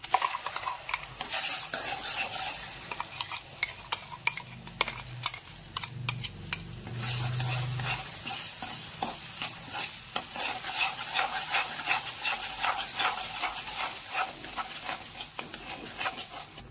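A spoon scrapes and clacks against the pan as a wood apple chutney mixture with turmeric and red chilli powder is stirred over low heat. Steady sizzling runs beneath the repeated stirring strokes.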